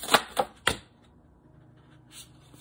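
Tarot cards being shuffled up close in three quick riffling bursts, then a quiet stretch and one softer rustle near the end.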